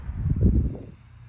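Can of cooking oil sprayed onto the inside walls of foam forms, one short close hiss lasting under a second before fading into quiet.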